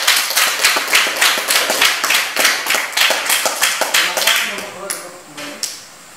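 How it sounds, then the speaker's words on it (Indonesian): A classroom of students claps for a group after its presentation, fast rhythmic clapping with distinct sharp hits that slows and thins out toward the end, leaving a few last scattered claps. "Sudah, kita beri tepuk tangan untuk kelompok 2."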